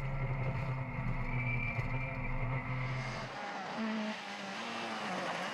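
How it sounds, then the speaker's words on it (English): Fiat Punto rally car racing through a stage, its engine roaring steadily and loud, with the note shifting as it passes and fading slightly, over a faint commentary voice. "And here the fantastic Fiat Punto of Stefan Hermann."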